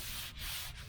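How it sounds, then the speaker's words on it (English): Abrasive grinder scouring down a dented steel fender on a 1968 Chevelle Nomad, a loud continuous rasping hiss that holds steady with two brief dips as the disc lifts, heard up close with no voices. "We're gonna grind this fender down."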